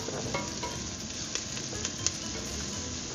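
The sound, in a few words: diced garlic cloves frying in a pan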